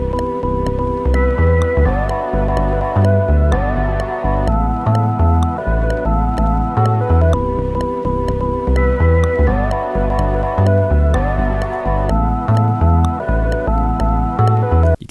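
A funk groove built from a flipped sample, a sub bass layer and a distorted Bitwig slap-bass synth plays together as one loud, dense, continuous loop with steady rhythmic bass pulses and a repeating melodic line, no voices.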